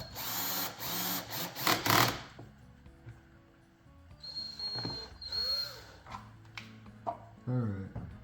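A power drill with its clutch at the lowest setting drives screws into the air box of a 2023-2025 Chevy Trax LT with the 1.2L turbo three-cylinder, giving several short whirring bursts, loud at first and then fainter and intermittent.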